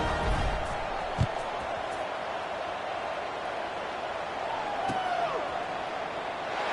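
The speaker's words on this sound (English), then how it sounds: "They're set to kick it off, and this crowd now ready to get behind them." Stadium crowd in a college football video game roars steadily at kickoff, a continuous mid-level wash of massed voices with a couple of sharp thumps and a brief whistle-like tone.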